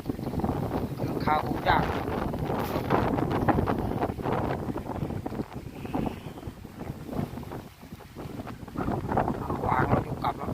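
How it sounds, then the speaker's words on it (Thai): Strong wind gusts blow hard across a rooftop in a village in Surin, Thailand, a loud, continuous buffeting roar over the microphone, with someone speaking briefly under it. "ลมแรงครับวันนี้"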